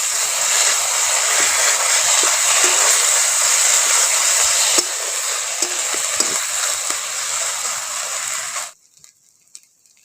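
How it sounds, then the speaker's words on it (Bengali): Onion, garlic paste and ginger paste fry in a pan, giving a loud, steady hiss and sizzle with faint stirring scrapes. The sound cuts off abruptly near the end, leaving near silence. "রসুন পেঁয়াজ একসঙ্গে ভালো করে আবার ভেজে নিচ্ছি"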